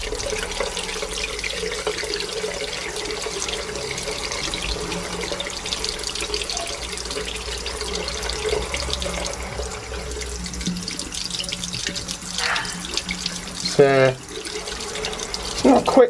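Fountain pen parts, including an ink converter, are rinsed under a running tap, a steady hiss of water splashing into a sink with a few clinks and shifts, while a person speaks over it.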